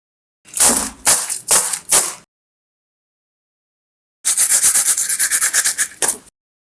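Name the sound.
crunching of crispy fried potato wedges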